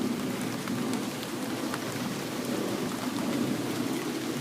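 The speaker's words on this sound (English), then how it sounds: "We're getting a rainstorm here" Steady rainstorm pouring outdoors, a dense continuous hiss of rain hitting surfaces with faint low rumble, unbroken and fairly loud throughout.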